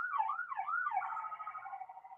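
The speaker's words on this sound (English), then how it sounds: "I don't know if you guys can hear that siren, but he finally just went past my window." An emergency siren passing outside a window, wailing in rising and falling sweeps before settling into a steadier tone, heard clearly but somewhat distant and muffled, with no one talking.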